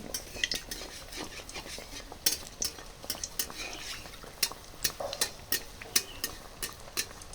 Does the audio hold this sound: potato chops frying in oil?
yes